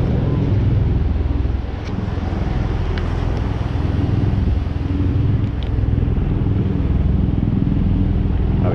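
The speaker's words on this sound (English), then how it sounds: "Gathering of helicopters." Helicopters flying overhead give a continuous low rumble with a steady throb that stays loud from start to end.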